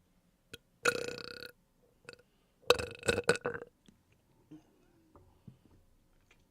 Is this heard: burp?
yes